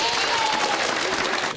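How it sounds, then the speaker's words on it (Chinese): A classroom of students claps for themselves in a quick, lively burst of applause, many hands at once, loud and close, sustained for about a second and a half before trailing off. "我们给自己一个掌声。"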